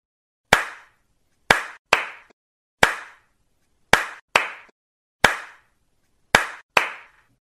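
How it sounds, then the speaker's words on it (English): Nine sharp hand claps, close and crisp, in a pattern of single claps and quick pairs separated by short silences. "you have to listen to my claps carefully"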